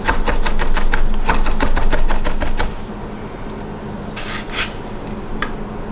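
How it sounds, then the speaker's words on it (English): Rapid, close knife chops mincing smashed garlic on a cutting board, a steady run of crisp taps for a few seconds, then scattered scraping and a couple of final cuts. "Smash yourself some garlic. Just want to mince it, you know."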